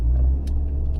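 A car's engine gives a steady low rumble from inside the cabin while it drives along a road, constant and close with no speech.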